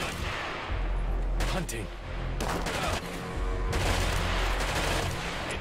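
Rapid enemy gunfire rattles in bursts throughout a tactical shooter game at a trainyard, loud and continuous with heavy low booms, while a player speaks briefly over it.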